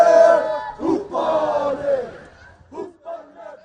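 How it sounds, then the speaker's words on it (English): A Maori haka war dance chant performed before a crowd at the WIN Games 2017: loud, forceful group shouts and rhythmic chanted cries in short bursts with brief pauses, heard close. "The Maori haka is a war dance meant to intimidate enemies, but it also captivates crowds around the world."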